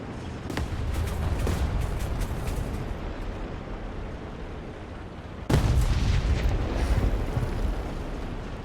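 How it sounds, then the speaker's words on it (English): Artillery strike in a tank battle video game: heavy rumbling explosions with a dense crackle of debris, and a second loud blast landing midway that booms and rolls on, no talk. "Artillery strike, I don't really mind that."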